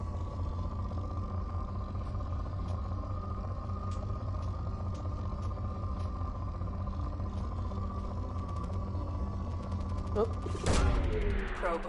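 Probe launch in the space game Mass Effect 2: a steady low engine hum runs throughout, then a sharp whooshing burst of launch near the end, loud and close.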